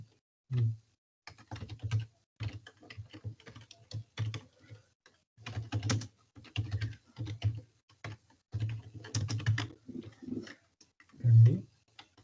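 Rapid bursts of computer keyboard typing while writing code, clicky keystrokes in uneven runs with short pauses, close and fairly quiet.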